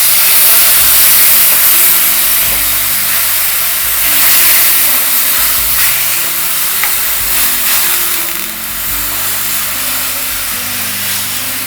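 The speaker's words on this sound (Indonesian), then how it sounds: "Kemudian kita masukkan santan encer." Thin coconut milk poured into spices sautéing with bay leaves for Indonesian opor ayam, giving a steady loud sizzle and steamy hiss with stirring throughout, no talking.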